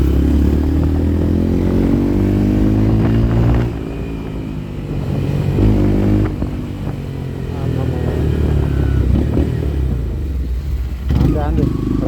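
A motorcycle engine drones steadily and loudly up close while being ridden through traffic, its low rumble running the whole time with a voice talking over it.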